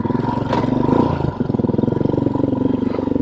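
A Royal Enfield Himalayan motorcycle engine fitted with an aftermarket AEW exhaust and CAD delete pipe idles close by with a steady, throbbing low pulse and a brief blip of throttle, loud and alone.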